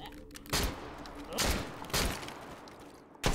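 Four sharp bursts of MP7 gunfire ring out at uneven intervals in the VR shooter game H3VR, each a loud crack with a brief decaying tail.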